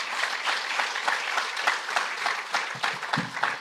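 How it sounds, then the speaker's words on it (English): An audience at a financial literacy and life skills conference breaks into steady applause for a speaker, with dense overlapping claps that hold level for a few seconds before thinning slightly near the end. "I think she deserves a bigger round of applause."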